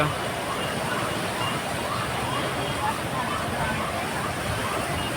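A steady, loud roar of rushing water fills the whole clip, dense and unbroken, as the Machchhu River in Morbi runs in full flood bank to bank.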